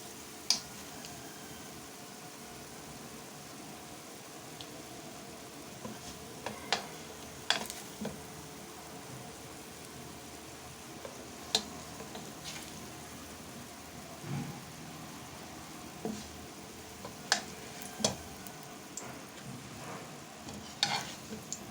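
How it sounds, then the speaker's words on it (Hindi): Aloo chapli kababs frying in oil until golden, a quiet steady sizzle with scattered sharp pops and crackles throughout, no talking. "इसी तरह सुरख तलना है आपको।"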